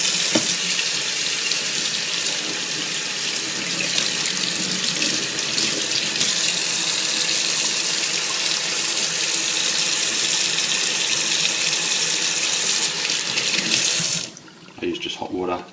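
Hot water gushes steadily from a tap to fill an iRobot Scooba 230 floor-cleaning robot, a continuous near rushing stream for about fourteen seconds before it cuts off and quieter handling sounds follow.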